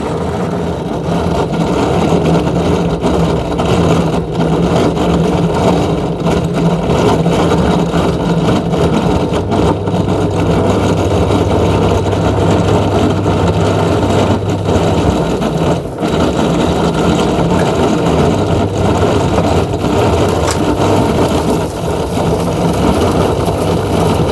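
A repaired Samsung washing machine with a new drain motor runs its spin cycle, giving a steady, continuous motor hum and whir at moderate loudness with a faint mechanical rattle throughout.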